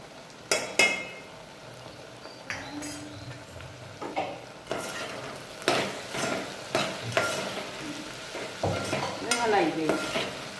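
A spatula scrapes and clatters against a frying pan of okra curry with tomato and turmeric, in irregular strokes over a soft sizzle, with occasional metallic clinks.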